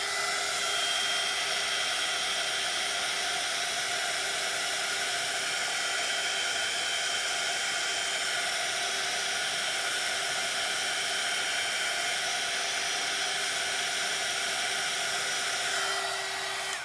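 A handheld heat tool blowing air to dry junk journal paper, a steady, even whirring hiss with a constant tonal hum that continues unbroken and fairly close.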